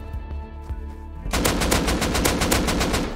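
AK rifle in the game Rust fires a fast, loud burst of automatic shots, a rapid even rhythm that begins after a quieter tonal stretch and keeps going to the end.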